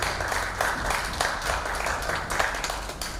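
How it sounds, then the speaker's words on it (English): Audience members give the day's speakers a round of applause, a short burst of brisk, close clapping with distinct individual claps standing out, carrying on steadily with no speech. "you all deserve a round of applause"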